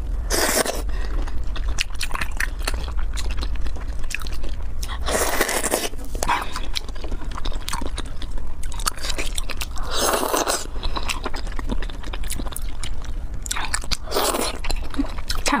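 Close, crisp biting and wet crunchy chewing of spicy raw octopus repeat in steady bursts, loud and intimate with no talking.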